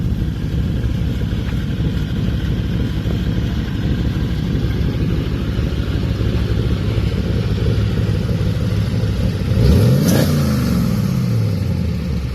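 A 1932 Ford hot rod with a fiberglass body and a 350 engine with Vortex heads idles with a loud, lumpy rumble, then gives one sharp rev that swells and falls away near the end.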